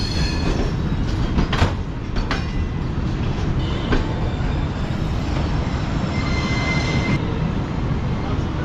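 The Tezgam 7 Up passenger train stands halted at Mehrapur railway station, with a steady low rumble of idling rail equipment, faint metallic squeals and clanks, and occasional murmured voices nearby.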